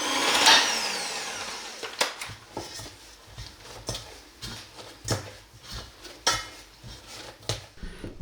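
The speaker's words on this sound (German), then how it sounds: "kneten nun das Ganze gut durch, zuerst mit dem Mixer" An electric hand mixer hums in the background while its beaters knock and clatter against a bowl kneading hamburger bun dough, in irregular, repeated bumps.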